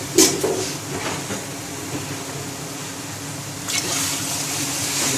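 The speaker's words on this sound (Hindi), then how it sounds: "ये हमने पानी डाल दिया।" Water poured into a cooking pot while making chana pulao, a steady broadband rush that runs continuously throughout, with a brief splash near the start and a louder surge toward the end, with no talk.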